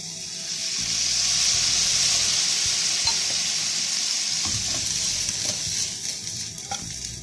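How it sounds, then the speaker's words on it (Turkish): Salmon and vegetables sauté in a pan with a splash of red wine, giving a steady, close sizzle and hiss broken by occasional stirring scrapes and clicks. "Alkolü çıkana kadar biraz daha sotelemeye devam ediyorum."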